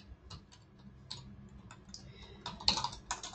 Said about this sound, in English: Ooh, I have Czech keyboard.